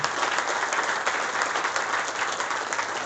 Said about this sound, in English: A big round of applause for Maersk in any case.